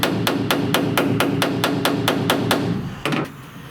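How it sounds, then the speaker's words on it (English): Hammer tapping down a high spot on the steel inner door panel of a 1969 Chevrolet C10 pickup: about ten sharp, evenly spaced metallic taps, close and loud, followed by a short pause and one or two final blows. "This little high spot, I'm going to tap it down with a hammer, just a tick."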